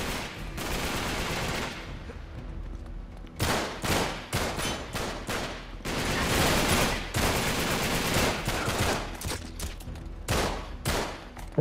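Rapid gunfire bursts and machine-gun fusillades from the action game Uncharted 3: Drake's Deception, loud and close, with repeated volleys separated by brief gaps and no talking.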